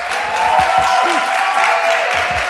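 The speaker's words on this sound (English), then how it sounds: "let's get Dylan a round of applause." Audience applause fills the room, a steady dense wash of clapping sustained throughout at moderate loudness with no pauses.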